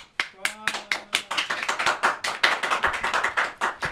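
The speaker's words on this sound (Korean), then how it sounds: "박수 한번 칠까요?" A few people clapping during a political interview, with sharp, fairly close individual claps in a quick uneven rhythm and voices faintly underneath.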